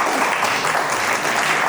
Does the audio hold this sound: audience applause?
yes